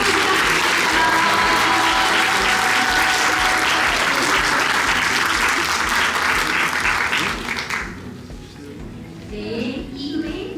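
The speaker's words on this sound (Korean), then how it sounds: "박수 부탁드립니다." Guests at a Korean language school graduation ceremony give loud, dense applause that fills the hall for about eight seconds, then drops away, leaving faint room sounds and a few voices.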